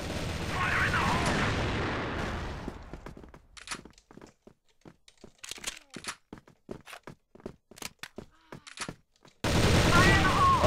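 A grenade blast in the Crossfire shooter game opens with a long, roaring boom that decays, followed by scattered sharp gunshots and footsteps, then another loud burst of noise near the end.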